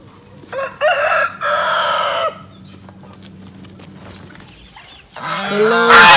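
Chickens cluck in short bursts close by, then a rooster crows loudly near the end, with faint background noise between calls.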